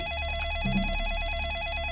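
A telephone rings in a Roblox video game, a close, steady electronic trill that repeats in a quick warbling pattern.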